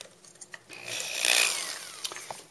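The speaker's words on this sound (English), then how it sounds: "Alright, so we have the motor mount drilled now." Drill boring a hole through a motor mount, with a single rising and fading whine in the middle of a short, fairly quiet stretch with small knocks around it.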